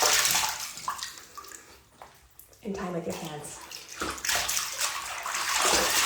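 Water sloshes and splashes in a bath as a face is washed by hand, with a steady wet wash and bursts of splashing. Someone speaks softly over it.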